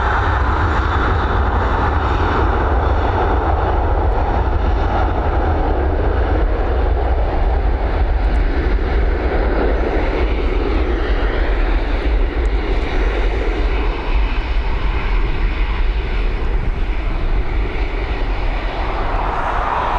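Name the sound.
airplane departing Dublin Airport for Birmingham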